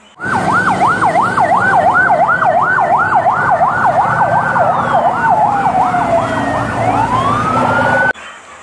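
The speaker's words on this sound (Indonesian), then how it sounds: "ini mobil ambulans militer" A loud electronic siren from a toy military ambulance wails in a steady rapid up-down pattern, repeating continuously for about eight seconds before cutting off abruptly.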